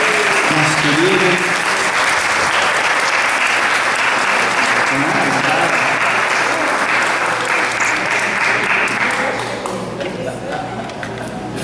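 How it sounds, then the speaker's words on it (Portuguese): A large audience gives sustained, loud applause honoring Dr. Valdemir at a ceremony of the Academia Fluminense de Letras in Niterói, the clapping holding steady before thinning out toward the end. "Salve de palmas, Dr. Valdemir, nosso querido."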